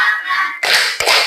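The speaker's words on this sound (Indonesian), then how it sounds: "Bertepuk." Two sharp hand claps, the second a moment after the first, ring out close and fairly loud during a guided open-and-close hand action song led by a teacher.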